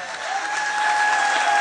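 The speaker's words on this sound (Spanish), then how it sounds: "Aplausos para la señora de la ardilla." Audience applause fills the space, a dense, steady wash of many clapping hands that swells slightly and continues to the end.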